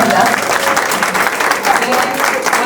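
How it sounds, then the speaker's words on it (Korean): A live audience gives the author a sustained round of applause at a Korean book talk and launch event, with dense, steady clapping from a crowd that fills the room evenly from start to finish. "다시 한번 작가님께 큰 박수 부탁드리겠습니다"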